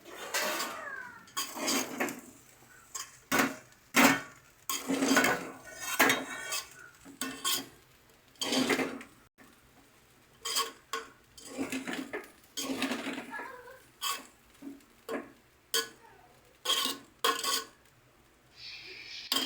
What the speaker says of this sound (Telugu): కలిపేసుకోవాలి కలిపేసుకొని ప్లేట్లో సర్వ్ చేసుకోవాలి